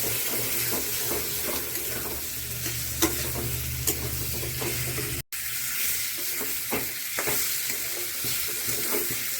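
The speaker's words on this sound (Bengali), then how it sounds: "এখন ভালো করে সব মশলা মাশরুম সব মিশিয়ে নেব।" Mushrooms with spices being stirred in a frying pan: a continuous close sizzle and hiss of frying, with repeated scraping strokes of the spoon through it and a brief cut of silence midway.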